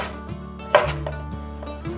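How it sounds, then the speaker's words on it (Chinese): A knife cuts a small cucumber into chunks on a board, giving a few sharp chopping knocks, one louder than the rest, over soft background music. "把小黄瓜切滚刀块，不要切得太大，小块一点。"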